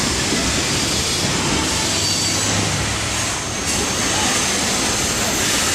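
A train rumbles past close by in Ellicott City, a loud steady roar of wheels on track filling the whole stretch without a break.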